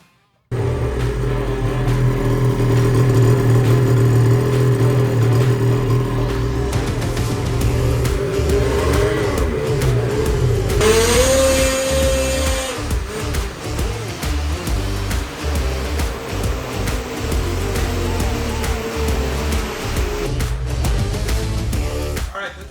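A two-stage 850 E-TEC snow drag sled engine runs on a dyno, holding a loud steady drone that builds, surges into a sharp high-revving scream near the middle, then settles into a rough lower rumble.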